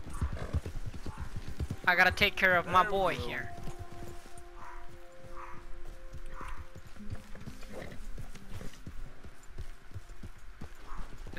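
A horse in the Red Dead Redemption 2 video game clip-clops with a steady hoof rhythm, and a whinny rings out near the start. Someone talks over the sound throughout.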